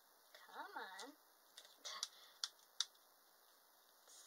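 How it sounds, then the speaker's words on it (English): Scissors snipping through sticky adhesive tape while finishing knitted and crochet baby items, giving a few faint, sharp clicks and snips in a quiet room, with a voice speaking briefly at the start. "Scissors are getting stuck in the adhesive."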